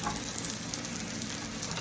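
Steady crackling sizzle of breakfast muffin mixture frying in a hot pan, close and continuous with no voices.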